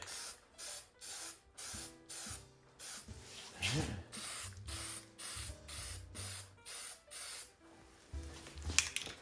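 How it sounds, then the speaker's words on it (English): Short repeated bursts of aerosol spray paint hiss in a steady rhythm, close by, as a test spray during a snow plow frame repair, with a faint voice murmuring briefly partway through. "There's some test spray. It seems to be coming out normally."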